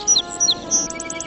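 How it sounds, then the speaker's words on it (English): A sparrow in a children's cartoon chirps in quick bright bursts, three short twittering calls followed by a faster run of tweets, close and clear over a soft background hum. "See, even the sparrow is saying thank you."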